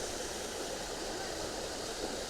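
Waterfall at Whatcom Falls city park in Washington State, a steady broadband roar of falling water holding constant without pause, fairly faint and continuous with no voices.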